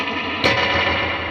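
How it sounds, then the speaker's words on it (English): Electric guitar played through a spring reverb pedal followed by an overdrive pedal, a sustained distorted chord with a sharp new strum near the start ringing out in a washy reverb tail. "I just had a reverb pedal, and then eventually I got an overdrive, so I just put them in that order"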